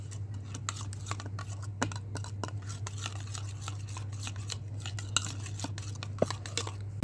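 A spoon scrapes and taps through salt, turmeric, chili, kadhai gosht masala, coriander powder, garam masala and fenugreek in a cooking pot, giving scattered small clicks and scrapes over a low, constant hum.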